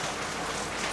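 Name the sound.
heavy rain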